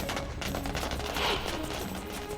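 Firecrackers burst during a street celebration at Gandhi Chowk in Hingoli, a rapid, irregular string of sharp cracks and pops heard at a moderate distance, layered over a busy background of crowd noise.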